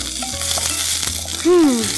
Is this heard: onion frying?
yes